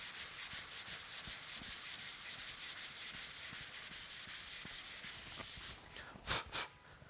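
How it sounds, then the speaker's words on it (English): Polyester primer on the hood of a 1950 Chevy truck is hand sanded in rapid, rhythmic back-and-forth rasping strokes, close and steady, ending with a couple of separate strokes. "So we want to sand and make sure those get totally out of there"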